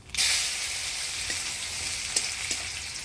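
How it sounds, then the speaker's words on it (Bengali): Black cumin seeds and crushed garlic hit hot oil for a tempering, bursting into a loud, steady hiss that holds throughout, with a few faint clicks of stirring. "ফোড়নে দিয়ে দিব কালো জিরা আর থেতো করা রসুন"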